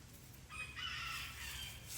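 A rooster crows once at a farm animal sanctuary, a faint, distant call stretched over a second or so against quiet outdoor background noise.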